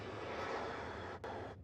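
Southwest airliner jet engines during departures at Nashville International Airport, a steady broadband roar heard from a distance, fairly faint, with no talking.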